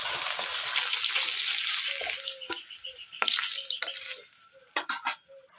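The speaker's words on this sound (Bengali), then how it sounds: "এবার মাথাটা ভাজলে হয়ে যায়।" Fish head frying in hot oil in a small pan in a Bengali village kitchen, sizzling that starts dense and steady and then breaks into scraping stirs and intermittent spatters as it fades.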